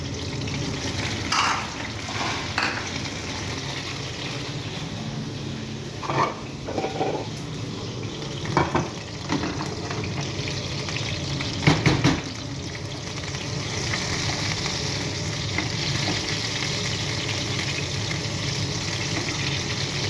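Eggs with tomato sizzle and fry in a pan, a steady close crackle with occasional scraping stirs and utensil knocks throughout.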